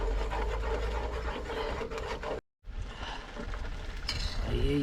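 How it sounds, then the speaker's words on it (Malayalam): Eggs stirred in a pan while cooking during a trip in Meghalaya: a steady, raspy scraping that runs close and continuous, broken by one brief silent gap midway. "ഇനി വേറെ ഇങ്ങനെ ഇളക്കി കൊടുക്കണം"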